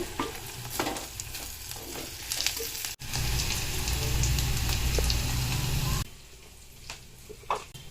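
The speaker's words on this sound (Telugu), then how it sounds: "పప్పులు, ఉల్లిపాయ ముక్కలన్నీ బాగా వేగాయండి." Lentils and onion pieces frying in oil until reddish, a dense close sizzle with stirring scrapes that swells loudly midway, then drops to a softer crackle, with no voices present.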